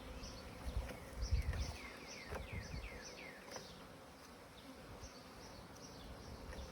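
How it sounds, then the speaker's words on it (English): Honey bees from a package buzz steadily in a soft, close swarm as they are put into a hive, with darting whines from single bees passing near and a few faint bumps underneath. "This these girls going in this hive."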